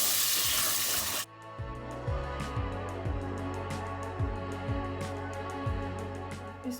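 Full-fat coconut milk poured into hot oil for a Thai red vegetarian curry: a loud hissing sizzle at first, then softer bubbling with repeated scraping and stirring clicks.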